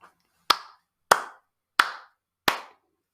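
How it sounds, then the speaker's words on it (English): A single person claps hands four times at an even, unhurried pace, each clap sharp, close and dry against silence. "That's me clapping."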